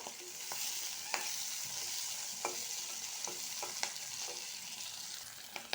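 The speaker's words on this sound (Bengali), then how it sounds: "পেঁয়াজ কলিটা আর পেঁয়াজটা একটু লাল লাল করে ভাজা হবে" Onion and onion stalks fry in hot oil in a wok seasoned with black cumin, giving a steady, close sizzle broken by sharp clicks and scrapes of stirring, with no voices.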